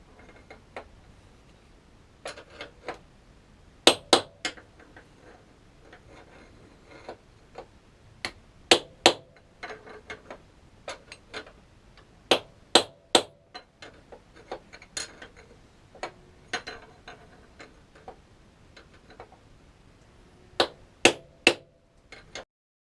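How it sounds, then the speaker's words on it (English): Steel headstock bearing race on an Aprilia RSV1000R Factory being hammered down with a screwdriver or chisel, giving sharp metallic taps in irregular bursts, some doubled, close and crisp over a quiet background. "hammer the race down. So that's what I'm gonna do."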